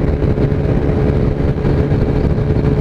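A Mash Seventy Five motorcycle fitted with a 14-tooth sprocket drones at sustained high speed, around 110 km/h, loud and close, with rushing wind noise layered over the steady roar.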